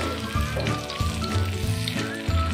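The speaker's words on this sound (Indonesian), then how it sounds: "Lalu kita goreng di minyak goreng yang panas dan api sedang biar matangnya itu merata" Potato fritters sizzle in hot oil over a medium flame as a steady, close crackling fry, with low thumps and clatter from the pan running beneath it.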